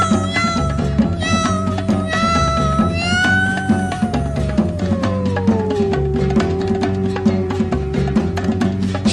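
A cat's meow sung within a Portuguese-language song, with a long sliding, meow-like vocal line held over full band accompaniment.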